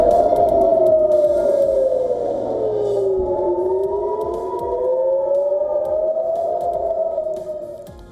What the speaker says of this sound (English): the Israeli army says that the sirens have been sounded again in the north after yet another barrage of Iranian missiles